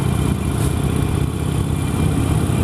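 A Harley-Davidson Iron 883 motorcycle engine runs at a steady, loud rumble throughout a demo ride, with a continuous low drone and no voices.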